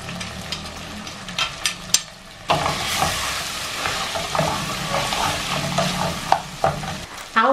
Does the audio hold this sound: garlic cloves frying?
yes